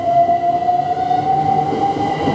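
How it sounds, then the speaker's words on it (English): A train on the Ely to London King's Cross service pulls out of a station, a steady loud rumbling roar with a thin sustained wheel squeal running over it, close by and with no voices. "Now the 1303 service from Ely to London King's Cross, this is now departing."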